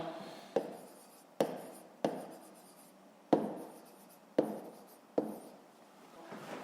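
A pen writes on paper during a 5th-grade math exercise, making a series of six or seven sharp taps, each followed by a short scratching stroke, close and quiet.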